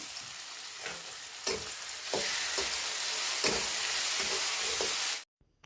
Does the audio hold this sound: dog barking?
no